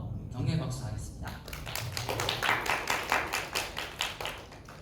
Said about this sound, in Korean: 우리 함께 또 섬겨준 선생님들과 또 학생들 위해서 격려 박수 하겠습니다